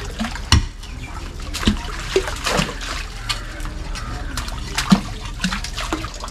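Overflow water from a septic tank pipe splashes and trickles steadily into a pit, a continuous close wet spatter with a few sharper drips.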